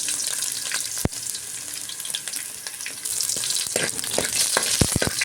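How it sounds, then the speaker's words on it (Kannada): Crushed garlic and mustard seeds fry in hot oil in a pan, a loud, continuous sizzle with sharp crackles and pops, close and alone. "ಇಷ್ಟು ಜಜ್ಜಿಟ್ಟಿಟ್ಕೊಂಡಿದ್ದಂತಹ ನಾನು ಬೆಳ್ಳುಳ್ಳಿ ಹಾಕ್ಕೊಳ್ತಾ ಇದ್ದೀನಿ. ಹಾಕ್ಕೊಂಡು ಇದನ್ನು ಫ್ರೈ ಮಾಡ್ಕೊಳ್ತೀನಿ"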